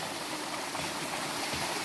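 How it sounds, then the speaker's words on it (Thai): Water pouring down a waterfall in a mountain setting, a steady broadband rush that holds even and unbroken throughout without any voices. "ก็มีน้ำตกลงมา แถว ภูเขานะคะ"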